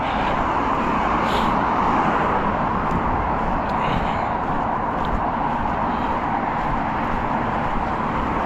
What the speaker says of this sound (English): Too much traffic to cross.